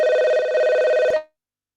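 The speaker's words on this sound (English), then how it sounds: "I apologize for the phone ringing." A telephone rings loudly and continuously for just over a second during an online meeting, a bright electronic ring with a steady pulsing trill that cuts off abruptly, followed by silence.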